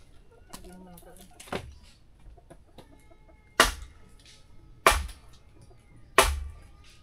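Backyard chickens cluck faintly at moderate distance, broken by three sharp, loud clatters spaced about a second apart, while people talk in the background.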